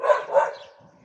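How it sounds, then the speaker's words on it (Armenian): Street dogs in a crowd of more than twenty, one of them injured in the leg, give two sharp close barks in quick succession that trail off into a faint whimper. "2 տասնյակից ավել շներ են այստեղ կուտակվել ու իրար մեջ կռիվ է սկսվում"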